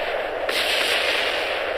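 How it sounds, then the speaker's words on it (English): A big explosion in the Kerbal Space Program video game: a loud, sustained broadband blast that roars steadily for nearly two seconds with no speech over it. "Whoa, that was a big explosion."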